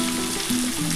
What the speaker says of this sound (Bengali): বিনস, গাজর, আলু, সিম সব একসাথে ভাজা হয়ে এসছে। এবার আমি ফুলকপিগুলো দিয়ে দিচ্ছি।